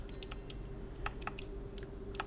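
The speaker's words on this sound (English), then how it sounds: "Typing like this is gonna be a chore." Key clicks from input on a game controller, a run of separate taps spaced irregularly over steady low background hum, close and fairly quiet.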